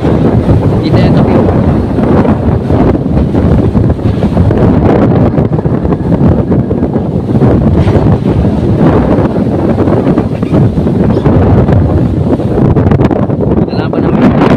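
Strong wind buffets a boat at sea off Batangas amid heavy waves, a loud constant roar of gusts and rushing water filling the whole stretch without letting up.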